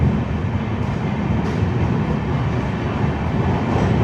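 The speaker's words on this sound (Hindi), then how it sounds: "और हमारी ट्रेन डिपार्ट करते हुए," Train pulling out of Gandhinagar Capital station on a Gandhinagar Capital to Varanasi run, a steady dense rumble and rail noise heard from inside a coach, loud and continuous with faint rhythmic clatter.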